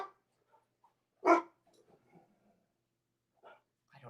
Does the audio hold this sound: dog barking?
yes